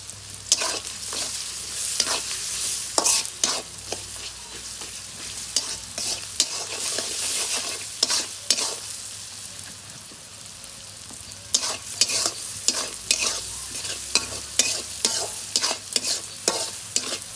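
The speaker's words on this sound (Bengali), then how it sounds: "পেঁয়াজ ভাজা ভাজা হয়ে গেছে" Onions fry with turmeric and salt in a pan, a constant sizzle broken by repeated scraping strokes of a spoon stirring them, close and even in rhythm.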